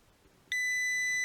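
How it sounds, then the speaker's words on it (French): An electronic buzzer switches on with a sharp, steady 2000 Hz beep after a moment of near silence, holding a clear tone with bright harmonics; no talking. "on a le buzzer qui est activé pour 1 seconde, puis désactivé pour 1 seconde"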